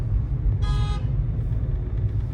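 A car horn gives a single short toot, about half a second long, heard from inside a moving Suzuki Jimny over a steady low engine and road rumble.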